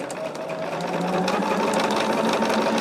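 A sewing machine runs steadily up close, stitching cotton quilt pieces with a fast, even mechanical whir and rattle that holds throughout.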